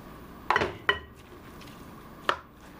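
Spoon clacking against a bowl while mixing lump crab meat for patties, three distinct sharp knocks spaced apart, close and fairly quiet with little else around them.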